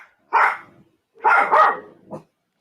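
Dogs barking indoors, close and loud: a sharp bark, a pause, then a quick double bark and a short final yip, with silence between.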